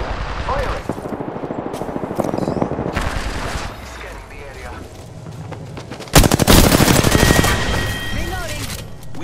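Rapid bursts of automatic gunfire from the Trident vehicle in Apex Legends, dense and loud across the whole stretch, swelling into a heavier barrage near the end with game effects mixed in.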